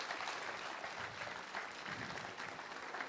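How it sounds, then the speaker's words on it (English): Church congregation applauding during a Sunday service, steady clapping from a large crowd sustained throughout at moderate level, with no speech over it. "Let's give him a clap."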